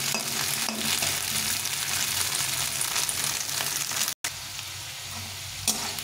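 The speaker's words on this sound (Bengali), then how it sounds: "গাজর বিনসটা একটু ভেজে নেবো ভালো করে।" Carrots and beans sizzle in hot oil, a dense continuous frying hiss up close with stirring sounds and a brief dropout partway through.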